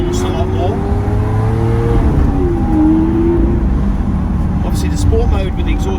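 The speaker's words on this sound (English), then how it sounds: "When you hit this button here for Sport will then open the exhaust valves. So you can hear the exhaust a lot more." A Lamborghini running in Sport mode with its exhaust valves open gives a loud, steady engine drone that lifts and dips slightly in pitch across a few seconds, close by.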